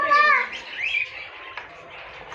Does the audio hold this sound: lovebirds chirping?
yes